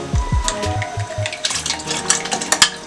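Ogiri (fermented egusi) mixed with water is poured into a cooking pot while making ikokore: a few low clinks of utensils, then a close, splashy stream of liquid with scattered bright spatters.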